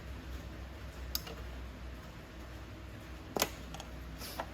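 A motorcycle wiring plug is squeezed and released, giving a few sharp plastic clicks, one near the start and a cluster later, close and fairly quiet over a low background hum.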